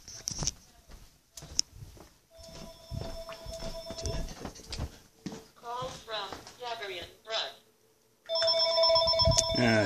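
A telephone rings in short repeated electronic bursts near the end, louder than everything before it. Earlier there is someone talking, along with footsteps and household movement.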